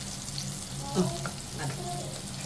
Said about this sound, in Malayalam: ഒരു ശകല എണ്ണ ഒഴിച്ച് അതിനകത്ത് ഇച്ചിരി കടു.